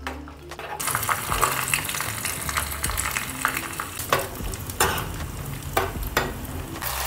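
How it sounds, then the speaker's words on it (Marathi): Dry fruits fry in ghee for a wheat kheer, with a loud continuous sizzle close by, broken by repeated scraping stirs and clinks in an uneven rhythm. "याच्यात आपले सगळे ड्रायफ्रूट्स थोडेसे फ्राय करून घेऊया"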